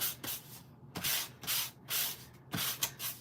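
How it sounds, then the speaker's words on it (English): A small handheld nail file sander buffs creased cardstock in repeated short rasping strokes, each a dry scratchy rub with brief pauses between passes, close and fairly quiet. "So now what we're gonna do is sand it."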